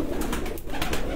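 Breeder pigeons on a rooftop cooing, soft low throaty coos repeated through a short, moderately loud stretch with no speech.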